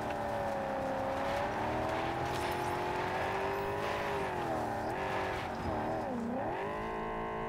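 Car driving in the video game Cyberpunk 2077, a steady loud engine drone that holds throughout, its pitch wavering and dipping near the end as the car turns and shifts.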